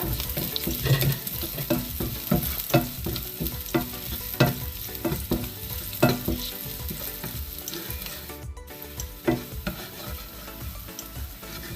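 Finely chopped green chilli and a dried chilli fry in hot oil. A spoon stirs them through a constant crackling sizzle, and the scrapes and knocks come in repeated bursts, close and clear.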